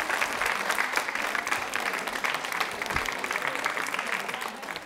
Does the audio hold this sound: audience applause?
yes